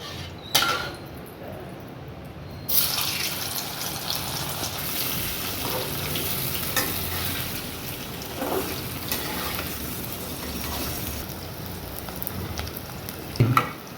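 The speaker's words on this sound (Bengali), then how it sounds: "এই যে কড়াইতে তেল দিয়েছি, তেল গরম হয়ে গিয়েছে, এবার আলুগুলো হালকা ভেজে নেব।" Sliced potatoes fry in hot oil in a village kitchen wok, with a loud hiss as they go in, then a continuous sizzle with occasional stirring scrapes and a clatter near the end.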